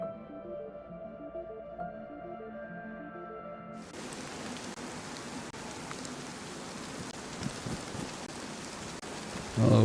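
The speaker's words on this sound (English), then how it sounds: "Oh, it's raining." Steady rain hiss in the video game DayZ, starting abruptly a few seconds in after a stretch of tonal in-game music and continuing as a broad, even wash of falling rain.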